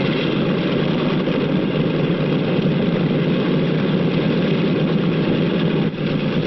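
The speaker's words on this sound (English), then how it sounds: "The plane starts over to the runway." A 1940s propeller airliner's engine runs steadily at an airport before taxiing to the runway, a loud, continuous low drone that holds at an even level with no voices.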